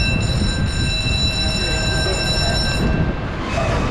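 A cable car at Niagara Falls rolls over a bump, a loud, steady rumble of wheels on a track with a high metallic whine above it, the drone shifting slightly near the end.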